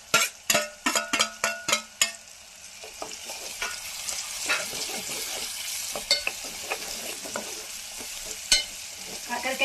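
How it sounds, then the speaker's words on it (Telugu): Bitter gourd pieces and onions stir-fried in a pan, opening with a quick run of sharp utensil clinks against the pan, then a steady close sizzle broken by scattered scraping taps. "ఇప్పుడు మనము ఫ్రై చేసుకొని పెట్టుకున్నటువంటి కాకరకాయ ముక్కలను ఇందులో వేస్తున్నాను."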